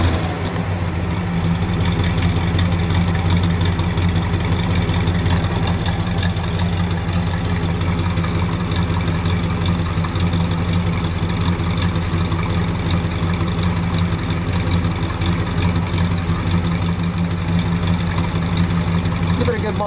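A 1965 Buick Skylark Grand Sport muscle car engine idles steadily with a deep, even low rumble that holds constant throughout, close and loud with no pauses.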